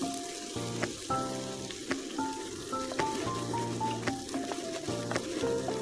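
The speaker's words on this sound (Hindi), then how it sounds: "तो इसको हम लोग फ्राई करेंगे।" Green chilies and garlic fry in hot oil in a village cooking setting, giving a steady close sizzle and crackle with occasional clinks and stirring noises over the sputtering.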